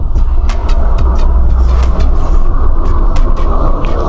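In the PUBG game, a train rumbles past loudly and close by, with a heavy low roar and a rhythmic clatter of wheels on the track.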